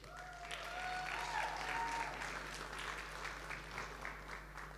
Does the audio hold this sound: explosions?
no